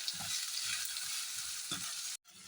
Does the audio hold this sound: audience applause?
no